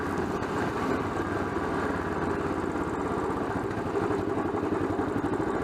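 A Royal Enfield Bullet 500 motorcycle idles on a rural Irish road, its single-cylinder engine putting out a steady, even thump with a faint clatter, close and alone.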